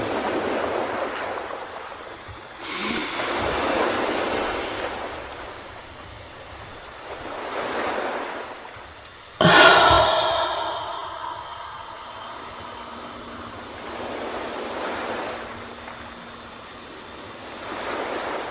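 Ocean waves roll in and wash out in a slow, regular rhythm, each surge swelling and receding, with one sharper crash near the middle and wind noise underneath.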